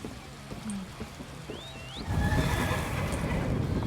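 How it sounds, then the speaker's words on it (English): A spooky horse in Elder Scrolls Online gives a whinnying neigh, rising and falling, over a low game soundscape that swells into a louder rumbling bed partway through. "And he's got the spooky horse."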